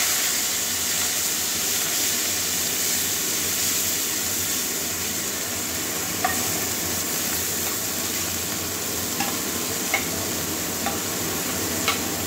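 Onion paste hits hot oil already fragrant with cumin and garlic for a Bengali katla fish curry, a steady loud sizzle holding throughout with a few faint ticks, close up and without talk.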